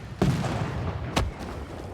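An artillery unit firing in Civilization 6, two sharp booming shots about a second apart, loud and near, each with a short rumbling tail over a low game background.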